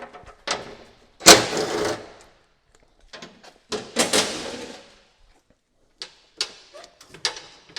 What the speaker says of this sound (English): let's go ahead and remove this cover